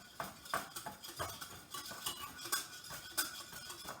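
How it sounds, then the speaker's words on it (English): A whisk beating a pudding mixture of cornstarch in a bowl, giving quick rhythmic scraping and light clinking strokes against the sides, steady and close throughout at a modest level. "whisk it together until completely smooth"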